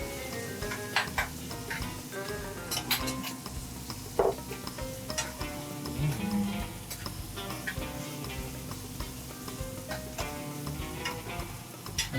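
Shallots sizzle steadily in a frying pan while making carbonara pasta, with occasional stirring clicks and utensil taps over a continuous crackling hiss.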